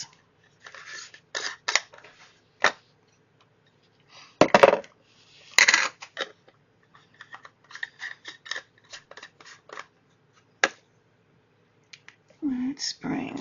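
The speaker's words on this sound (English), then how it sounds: "Alright, let's get our lids on our inks." Small lids are pressed and snapped onto ink containers one after another, giving sharp, scattered clicks and plastic taps at close range with quiet gaps between them.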